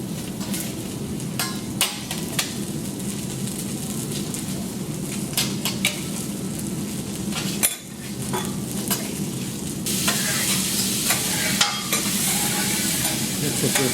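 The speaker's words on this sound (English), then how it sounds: "Make the salmon skin crispy." Salmon skin sizzles and crisps in a frying pan, a steady loud hiss close up with scattered clicks and scrapes of a utensil against the pan, growing brighter and harsher toward the end.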